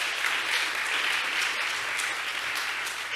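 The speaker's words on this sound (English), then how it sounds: "Let's give them another round of applause" An audience at a middle school award chapel claps steadily for student award winners, a dense sustained applause that holds at an even level throughout without a break.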